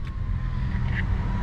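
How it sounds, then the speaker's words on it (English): A Lexus ES engine idles steadily in a garage, a low, even rumble running alone through the short stretch. "the car does sound pretty good here in the garage"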